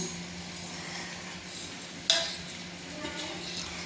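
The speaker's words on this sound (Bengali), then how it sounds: "ওদিকে আলু ভাজা হচ্ছে, দেখুন আলুগুলো ভেজে নিচ্ছি" Potatoes fry in a pan with a steady close sizzle, broken by stirring scrapes and one sharper clink of a utensil partway through.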